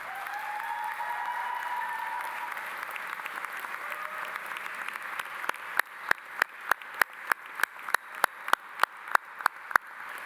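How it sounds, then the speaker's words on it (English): Graduation ceremony audience applauding in a large hall, a dense, steady clapping that thins out into a few distinct, evenly spaced claps near the end. "Please give them an enormous round of applause"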